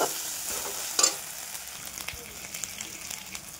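Tomatoes sizzle softly in a pan of cooked-down masala and are stirred, giving a low, steady hiss with a brief louder scrape near the start and faint clicks after.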